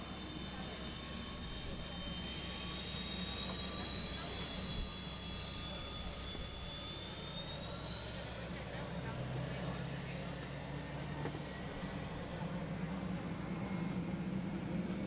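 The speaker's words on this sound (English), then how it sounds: "Here comes Aaron Salmon, the starting sequence for that T55 L7 turbine engine." A T55 L7 turbine engine of a hydroplane race boat spools up with a steady jet roar and a rising high-pitched whine, heard from a distance under a commentator's voice at a Bayfair race heat.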